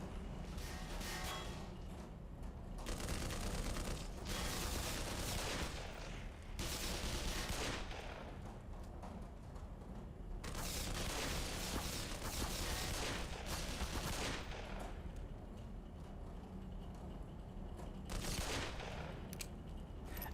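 Gunfire in the video game Black Mesa, with dense bursts of rapid shots and clattering weapon noise filling most of the stretch, rising and falling in waves against a steady game background.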